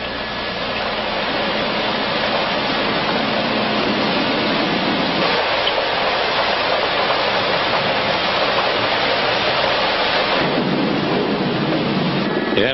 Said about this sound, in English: Kuala Lumpur under rain.